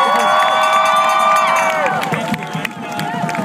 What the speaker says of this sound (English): Let's give George the biggest round of applause for organizing all of this today.